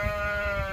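A sheep bleats on a farm on a very windy day: a single sustained, nasal bleat, close and moderately loud, over a low rumble of wind.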